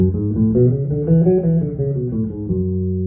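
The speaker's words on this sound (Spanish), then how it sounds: "La escala básicamente, la escala menor antigua suena así" A bass plays a slow natural minor (Aeolian) scale, one sustained note after another climbing and descending, clear and alone.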